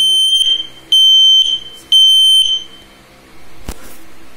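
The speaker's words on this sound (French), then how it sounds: "à gauche, le mode test, donc avec l'alarme" Loud, shrill beeping from an X-Sense XS01 connected smoke detector in test mode, in three long pulses, with a sharp click near the end and faint background noise.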